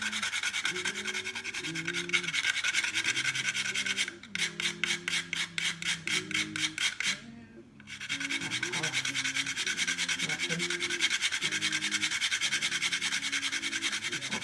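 Fresh whole nutmeg scraped against a grater in rapid rasping strokes close by, with a short gap midway before the steady grating resumes.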